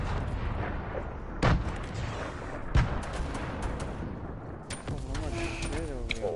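Grenade blasts and gunfire in a PS4 shooter game ring out as two sharp, loud booms among constant dense battle noise, with a voice talking over the din.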